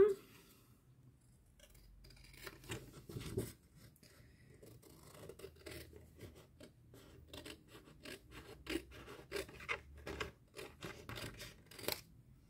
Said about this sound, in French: En attendant, je vais découper les autres.